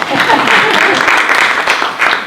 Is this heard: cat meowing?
no